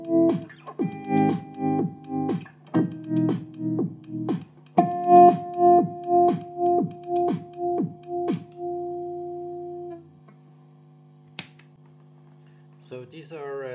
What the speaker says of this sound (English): it's always when the bass drum hits, the guitar is going quiet.